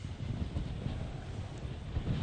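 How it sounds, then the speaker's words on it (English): Hurricane Irma gusts batter an outdoor microphone near choppy water, making a loud, constant low rumble and buffeting roar that swells slightly toward the end, with no talking. "we've got a lot of wind gusts coming through"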